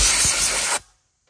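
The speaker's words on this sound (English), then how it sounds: "hit it with the air compressor really quickly" A burst of compressed air from an air compressor blows loose grass clippings out of a lawn mower, a loud broadband hiss that runs steadily for most of a second and then cuts off abruptly into silence.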